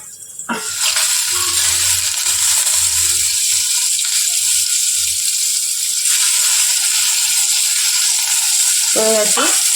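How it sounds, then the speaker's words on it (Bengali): Large pieces of bitter gourd (karela) fry in oil, a loud continuous sizzle with brief stirring scrapes and clatters, close by and without talking. "যেহেতু করলা একটু সাইজ বেশি বড়, সেই জন্য এটা লাল লাল করে ভালো করে ভাজাটা করতে হবে"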